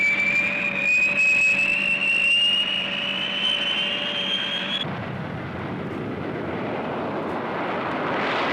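B-58 bomber jet aircraft passing overhead, a loud steady jet roar with a rising high whine that cuts off and gives way to broadband rumbling exhaust noise, no voices.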